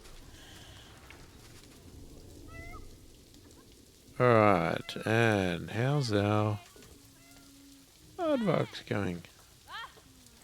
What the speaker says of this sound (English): Because it is raining.